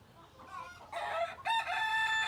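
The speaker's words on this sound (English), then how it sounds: "So again, this is a silky chicken." A silkie chicken, the soft-feathered breed with dark skin and bones, clucks in a chicken coop, then breaks into louder crowing bursts that rise midway and hold strongly toward the end.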